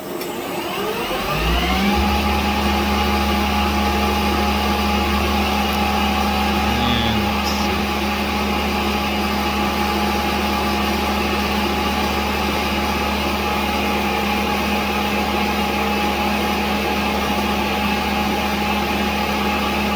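A lathe spins up an antique transmission drum for machining, starting after a brief pause into a steady, loud motor whine with constant tonal hum that holds unchanged to the end.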